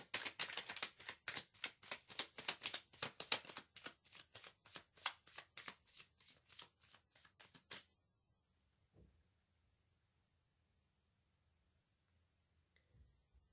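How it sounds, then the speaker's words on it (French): Tarot cards being shuffled in quick riffling bursts for about eight seconds before a card is drawn, followed by near silence with a couple of faint soft taps, close and clear. "je vais tirer une dernière carte pour avoir un message"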